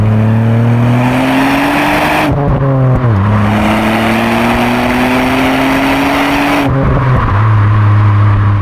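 A Ford Fiesta ST Mk8 with a Stage 1 remap accelerates hard, engine pitch climbing steadily through the gears with brief drops at each shift, loud and close throughout.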